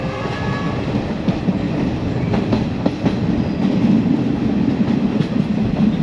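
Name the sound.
second class train ride in Sri Lanka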